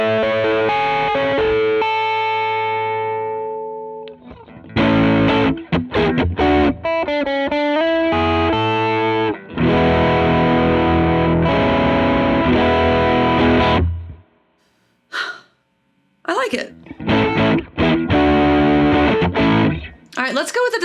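Electric guitar played through a Catalinbread CB Series overdrive pedal at a medium-to-heavy gain setting: loud, gritty sustained chords and single-note runs with ringing decay, separated by short pauses.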